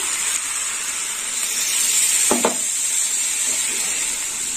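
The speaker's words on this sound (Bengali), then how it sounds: "আলু দিয়ে এঁচোড় কষা হয়ে গেছে, এবার জল দিয়ে দেবো। দিয়ে দিলাম জল।" Water splashes into a pan of frying potatoes and green jackfruit, a brief pour with a short burst of splashing over a steady, loud sizzle that continues throughout.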